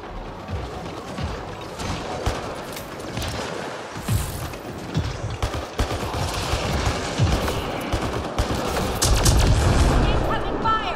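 Sustained gunfire in the sci-fi shooter Mass Effect: Andromeda, dense bursts and single shots cracking continuously through a chaotic battle and growing heavier toward the end, with voices speaking over it.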